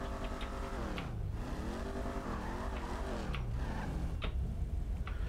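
In the GTA V video game, a car's engine revs and rises and falls in pitch continuously as the car lifts its front wheels, with some tire noise.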